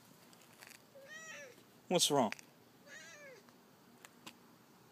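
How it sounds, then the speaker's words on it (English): A cat meows twice at close range, clear plaintive cries on either side of a short spoken question, with a quiet outdoor background. "Where is that cat?"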